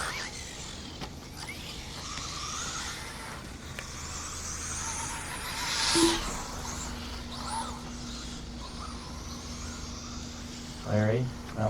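Race cars run laps on a track during a main event, their engines a steady distant drone, with one car swelling louder as it passes midway; an announcer talks over the whole stretch.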